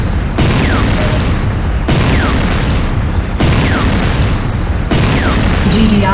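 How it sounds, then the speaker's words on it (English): Repeated explosions of a destroyed GDI weapons factory in the game Renegade, four heavy booming blasts at roughly one-and-a-half-second intervals, loud and close with rumbling tails between them. "GDI weapons factory destroyed. Enemy structure destroyed."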